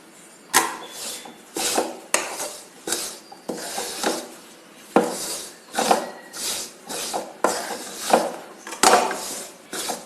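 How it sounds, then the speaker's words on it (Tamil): Flour roasting dry in a pan for thattai, repeated close scraping and rubbing strokes of a spatula against the pan in an uneven rhythm, each stroke a short gritty rasp with brief pauses between. "இது மாவு நல்லா சலசலப்போடு வறுக்கணும்."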